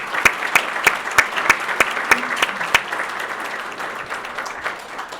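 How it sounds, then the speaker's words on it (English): Audience applause at a family business awards event, a sustained wash of clapping with a few sharp louder claps early on, steady then gently tapering, no talk over it. "Please give them a round of applause."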